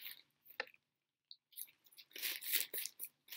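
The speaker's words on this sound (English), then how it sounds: "Now we'll put it back in its nice, lovely plastic bag." A yarn skein is pushed into a plastic bag, giving close, faint crinkling and rustling in short bursts with brief pauses, then a denser stretch of crackling near the end.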